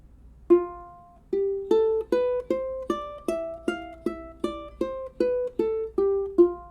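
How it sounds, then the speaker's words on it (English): A ukulele plays the F Lydian mode as a single-note scale run, about a dozen plucked notes in steady rhythm, each ringing clearly and briefly before the next, with no talking over it. "So let's play the F Lydian mode together."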